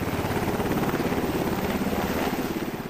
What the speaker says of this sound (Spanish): Aquí, un helicóptero con agentes altamente capacitados llegan al rescate.